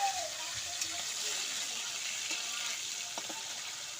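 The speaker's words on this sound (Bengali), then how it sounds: "কড়াই তেল গরম হয়ে গেছে, তেলে দিয়ে দেবো মাছগুলো হালকা ভেজে নেব" Fish frying lightly in hot oil in a wok, a steady close hiss and sizzle with a faint bubbling edge running throughout, no talking.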